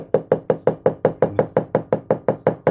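Knuckle tapping on a glass bottle holding a betta fighting fish, sixteen evenly spaced knocks in a quick steady rhythm, loud and close, with no voices.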